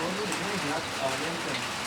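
Rain falls during an outdoor cricket match, a steady broadband patter of drops on surfaces with faint voices murmuring underneath.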